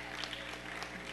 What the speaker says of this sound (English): Will y'all give God a hand clap of praise for the angel of the house?